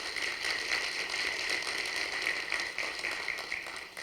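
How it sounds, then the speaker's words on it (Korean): A lecture audience applauds a guest lecturer with steady, dense clapping, moderately distant and sustained without break. "우선 큰 박수 부탁드리겠습니다"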